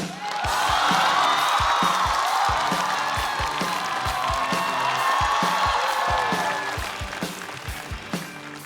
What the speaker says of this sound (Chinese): 我们掌声有请韩